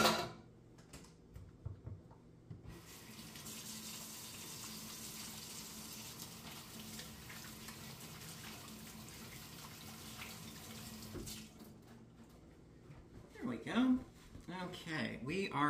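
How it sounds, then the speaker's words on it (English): Hands being washed under a running kitchen tap while cooking, a steady rush of water for about ten seconds, with brief handling noises and a voice before and after. "just give my hands a quick wash"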